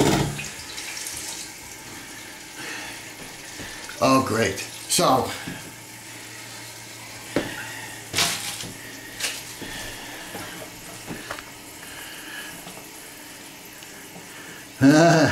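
Water runs into a Kohler Class Five toilet tank as it refills, a steady wash under someone speaking briefly, with a few clunks and louder surges along the way.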